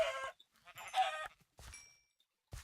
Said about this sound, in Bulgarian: Опа, още кокошки.